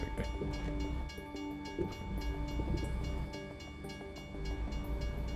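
A freight train rolls past a level crossing in a driving video game with a steady, loud rumble, rhythmic wheel clatter and tonal horn-like drones. A single brief spoken word is heard over it.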